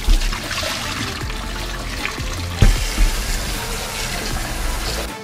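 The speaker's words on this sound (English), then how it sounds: "I like to rinse it off one more time, strain it, and then add more cold water to it." Cold water from a tap pours into a bowl of cut potatoes, a steady splashing trickle with a couple of louder splashes midway, fairly close and without speech.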